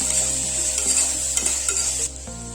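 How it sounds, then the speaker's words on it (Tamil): Tomatoes sautéing in a hot pan for a spicy mutton curry, a steady close sizzle with a few soft stirring scrapes, the frying dipping slightly quieter near the end. "இப்போ தக்காளி கொஞ்சம் வதங்கிடட்டும்"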